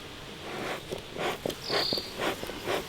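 Honeybees in an opened beehive, disturbed by smoke, give a steady buzzing hum broken by repeated soft rushing bursts, with a brief thin tone midway.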